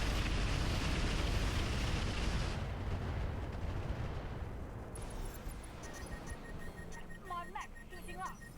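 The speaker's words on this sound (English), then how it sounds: "I need a missile barrage over here." Missile barrage explosions in the BattleTech Roguetech game, dense rumbling booms and blasts that roll continuously then thin out, leaving quieter clanks and game effects near the end.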